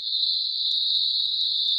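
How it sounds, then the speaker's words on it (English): Crickets chirping in a played-back recording, a continuous high, shrill trill holding steady and fairly loud, with faint low rumble beneath and no voices. "There's more crickets or some other type of bug."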